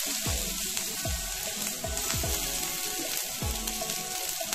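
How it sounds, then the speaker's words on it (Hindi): Puti fish fry in hot oil in a kadai for a Bengali sorshe puti dish, a steady loud sizzle with repeated bubbling surges and splashy crackles close by. "तेल गरम हये गेछे तो एबार आमी माछ"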